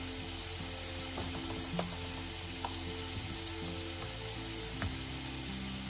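Ginger and garlic frying in a pan on a home stove, a steady close sizzle with occasional clicks and scraping stir sounds, no talking.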